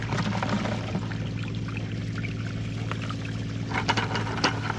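Water pours steadily from a bucket into a mini sluice on the bank of the Fraser River, a continuous close splashing rush with a few small trickles near the end.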